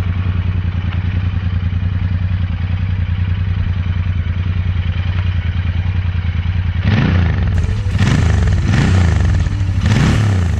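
A Royal Enfield Interceptor motorcycle fitted with a performance intake snorkel idles with a steady, throbbing engine note, then revs sharply several times in quick bursts, loud and close.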